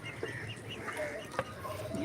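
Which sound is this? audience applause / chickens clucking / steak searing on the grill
chickens clucking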